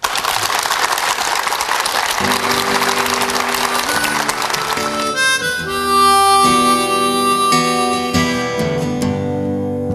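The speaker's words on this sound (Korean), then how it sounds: "힘찬 박수로 청해 보겠습니다" An audience claps loudly for about five seconds, then the applause fades as gentle instrumental music begins.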